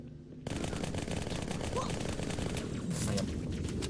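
Rapid automatic gunfire from the Halo 2 video game, a dense continuous burst of shots that starts abruptly after a brief quiet moment and stays loud throughout, with voices faintly mixed in.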